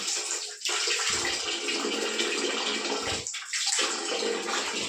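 Water gushing from a tap into a bucket at home, a loud continuous rushing pour with a couple of brief interruptions as the flow shifts.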